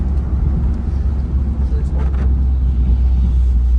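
Car traffic idles and creeps in a traffic jam on a city street, a steady low engine rumble that continues throughout while a voice talks over it.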